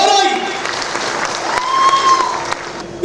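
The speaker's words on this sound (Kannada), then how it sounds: "ಅದಕ್ಕೆ ತಾವೆಲ್ಲ ಜೋರಾಗಿ ಒಂದು ಸೇರಿ ಚಪ್ಪಾಳೆ ಹೊಡಿಬೇಕಂತ, ಜೋರಾಗಿ." An audience at a public rally in Sandur claps together, a brief burst of crowd applause with voices mixed in.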